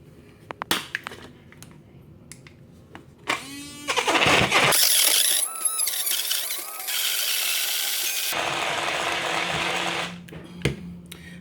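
The motor of a BlendJet 2.0 portable rechargeable blender whirs up and runs loudly while blending a thick smoothie. The buzz dips in pitch partway through, and there are clicks and handling noises before and after.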